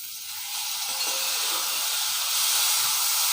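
Onion, ginger-garlic paste and tomato sautéing in a pan make a loud, close, continuous hissing sizzle with no talk.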